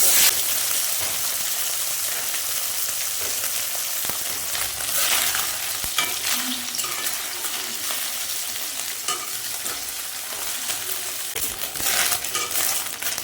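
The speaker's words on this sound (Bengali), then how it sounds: "মাছগুলো ভেজে নেব" Small fish frying in hot oil in a kadai give off a dense, constant sizzle with crackling pops throughout, close and fairly loud, with no talking.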